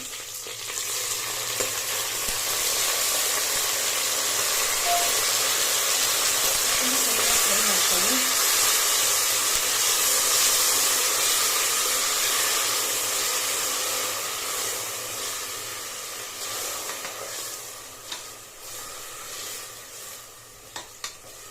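Fresh fenugreek leaves dropped into a pan of fried onions and green peas, a loud, steady sizzle and hiss of frying that fades toward the end, with faint stirring.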